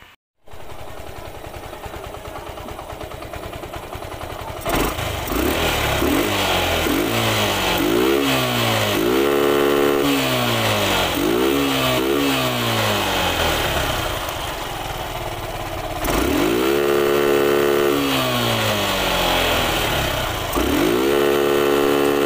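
A Yamaha YTX motorcycle engine idles, then revs repeatedly in sharp bursts, pitch rising and falling with each twist of the throttle, loud and close.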